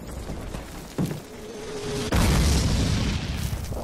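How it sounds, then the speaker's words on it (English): Mortar shell explosions in the World War II shooter Call of Duty, a heavy boom crashing in over steady battle rumble, followed by a sustained loud roar of debris and noise. "Mortars! Incoming!"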